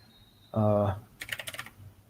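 Quick keystrokes on a computer keyboard while code is typed, a short burst of close, clicky taps following a brief voiced sound.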